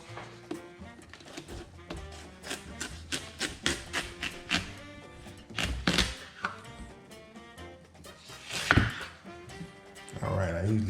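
A knife chopping a big watermelon for fruit salad, with a run of sharp, irregular thunks and cuts on a board, close and moderately loud, with a few heavier strikes near the end.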